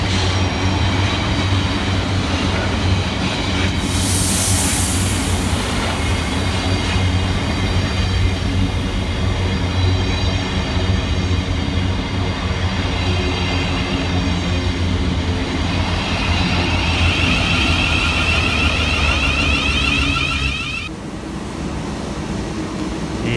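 A delayed Southeastern passenger train from Gravesend to London Charing Cross runs steadily along the rails at Waterloo East, a loud continuous rumble with wheel hum and high squeal that eases slightly near the end.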